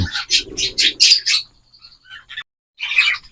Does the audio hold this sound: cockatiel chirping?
yes